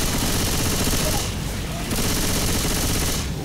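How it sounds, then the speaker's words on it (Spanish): Dense, continuous gunfire from Left 4 Dead 2, loud and unbroken across the whole stretch, with a brief dip midway. It runs as a wall of rapid shots with voices mixed underneath. "Te estoy disparando todo el tiempo a vos."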